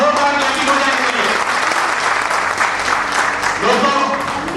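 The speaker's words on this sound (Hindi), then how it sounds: "एक बार जोरदार ताली हो जाए के लिए।" Enthusiastic audience applause greets a guest from a company at the start of a program, loud and sustained clapping filling the whole stretch without pause.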